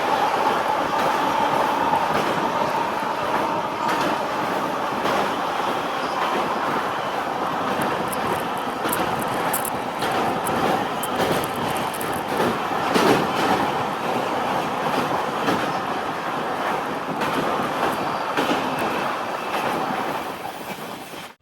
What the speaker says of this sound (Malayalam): പതിനൊന്ന് 25 ട്രെയിൻ ഇപ്പോൾ ഈറോഡ് ജംഗ്ഷനിലേക്ക് ഇതാ എത്തുകയാണ്